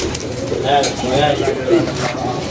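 A young black pigeon coos close by, soft throaty warbling phrases repeating over a couple of seconds.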